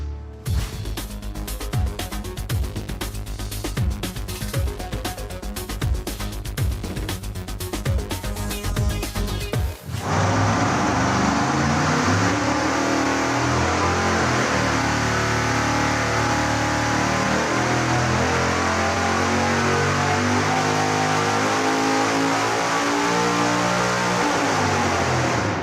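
A supercharged big-block Chevy engine runs on a dyno, first a rapid pulsing idle, then a sudden switch to a loud, sustained wide-open roar as the nitrous is engaged, with the pitch rising steadily.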